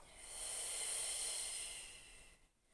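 Slow, deep breath drawn through the nose during a Pilates hip and glute stretch, a single soft, close airy inhale swelling and fading over a couple of seconds, alone and quiet.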